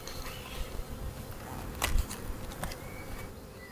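Honeybees drone in a soft, steady hum around an opened hive on a calm day during an early-season inspection, with a couple of brief closer buzzes as single bees pass near.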